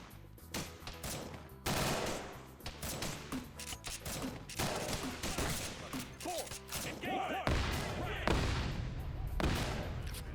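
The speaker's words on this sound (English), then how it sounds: "it's a hand crank GL too, so to fire it, you just crank that, and it fires" Hand-crank grenade launcher firing in a Vietnam-era multiplayer video game, heavy repeated thumping blasts amid a dense barrage of gunfire and explosions, with a voice talking through the chaos.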